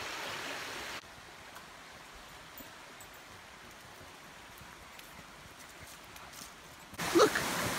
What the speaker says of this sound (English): The creeks and rivers just running right beside the trails